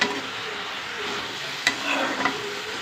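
Drumstick seeds sautéing in a pan for a chutney, with a steady soft sizzle and a few brief scraping stirs of a spoon against the pan; no talking.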